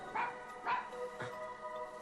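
An injured dog gives three short barks spaced roughly half a second apart, moderately close, over a faint steady background of music or ambience.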